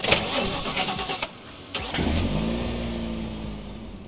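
A car engine in the video game The Last Stand: Aftermath cranks, catches and settles into a steady idle, with a sharp start and a rising rumble before levelling off.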